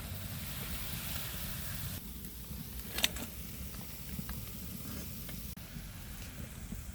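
Palm fruit fritters fry in a pan of hot oil, giving a steady, soft sizzle with a brief louder crackle partway through and no voices.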